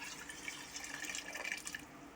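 Meat cooking water is poured briefly into a pot of beef biryani, a soft continuous splashing trickle lasting a couple of seconds.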